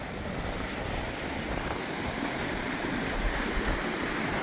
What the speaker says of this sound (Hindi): अच्छा जी, तो अब हम बिल्कुल करीब आ गए हैं समंदर के।